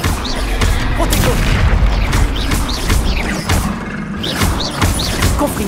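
Confringo explosion spell in the Hogwarts Legacy video game, dense booms and crashing blasts layered over constant loud game noise, repeating in bursts across the whole stretch.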